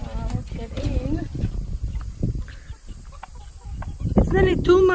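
A flock of about fifteen chickens in a food forest clucks and squawks nearby, with a louder call near the end, while someone talks over them.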